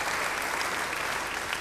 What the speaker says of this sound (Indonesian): Yang setuju beri tepuk tangan yang baik buat dia.